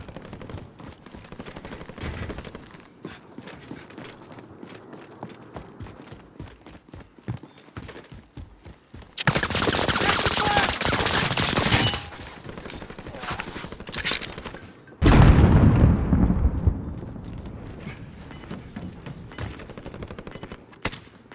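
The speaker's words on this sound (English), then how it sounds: "Allies taking fire!" Gunfire in Call of Duty: Modern Warfare, rapid automatic bursts and sharp single shots crackling through a firefight, with loud, dense stretches of sustained fire and a heavy blast near the end.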